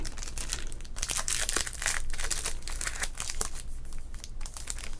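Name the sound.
crinkling of a 1990 Topps baseball card pack wrapper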